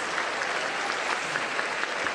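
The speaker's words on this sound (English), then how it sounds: "please give a round of applause for our distinguished guests and junior" An audience applauding guests at the First Lady's luncheon with congressional spouses, a steady wash of many hands clapping at moderate loudness from a distance.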